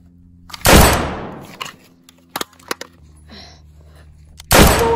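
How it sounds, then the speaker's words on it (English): Gunfire in a video game: two loud, sharp bursts with long decaying tails open and close the stretch, with a few quicker, lighter cracks between them and a low background hum. "Fed Foxy, fire a gun."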